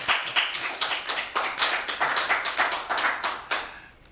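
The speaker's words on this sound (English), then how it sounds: "You can clap, it's okay." Audience members clap at a city council meeting after a motion passes, a brisk run of individual hand claps in quick, uneven rhythm from a modest crowd, close and fairly loud, fading out at the end.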